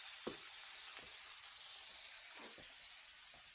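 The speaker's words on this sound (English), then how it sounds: "I'm going to put the steak down in the pan, let it sear for a minute to a minute and a half aside" A steak sears in a hot pan, giving a steady, faint, high sizzling hiss with a few soft low knocks. No one speaks.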